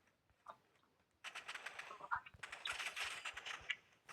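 Rapid bursts of gunfire from the Roblox shooter game Rivals, sharp crackling volleys starting at about a second in and continuing nearly to the end, with a pause midway, loud and close against a faint background.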